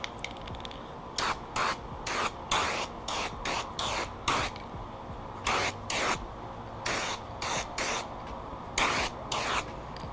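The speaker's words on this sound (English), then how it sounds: "I'm just gonna blast it with some of this black spray paint." Short hissing bursts of a black spray paint can on a Volkswagen Jetta MK4 subframe and control arm, repeated in an irregular rhythm of quick sprays and pauses, close by with no talking.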